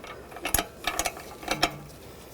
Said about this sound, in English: Using a 10mm wrench on the bleeder screw.